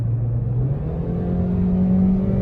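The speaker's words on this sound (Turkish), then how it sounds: "İçeriye gelen ses motorda bağırdığı zaman biraz yüksek" A 2020 Toyota Corolla engine droning at 6000 rpm, a steady loud rising whine with a low rumble underneath, heard from inside the car, no talking.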